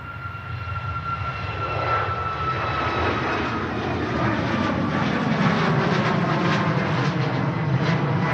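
A Hainan airliner departs Manchester Airport with a loud, sustained engine roar that builds and holds steady throughout, heard without talk.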